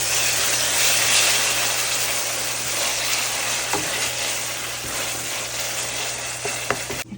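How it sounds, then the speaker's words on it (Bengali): Onion frying in hot oil with ginger garlic paste hisses loudly and evenly, close up, with occasional scraping knocks of stirring near the end. "পেঁয়াজ একটু ভাজা হলে আমি আদা রসুন বাটা অ্যাড করে দিব।"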